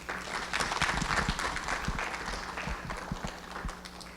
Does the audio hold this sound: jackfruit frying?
no